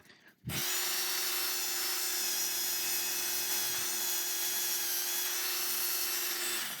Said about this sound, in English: I'm going to do a little bit more sanding